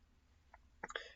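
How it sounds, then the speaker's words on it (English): A single quiet sneeze at a live sports show, a short faint breath followed by a brief sharp burst, heard close against a near-silent background. "I usually never sneeze on this show"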